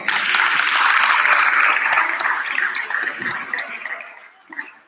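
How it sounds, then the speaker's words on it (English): An audience claps for students receiving awards at an eighth grade awards ceremony, a steady wash of applause that gradually fades to a few final claps. "Let's give them a round of applause."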